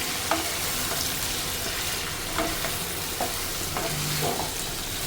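Meat sizzles loudly and steadily in a hot pan and is stirred now and then, with faint scrapes over the constant frying hiss.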